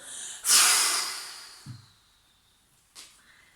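A long forceful exhale through the nose during a sophrology relaxation exercise, loud and close, followed by a brief soft puff and a shorter second breath out.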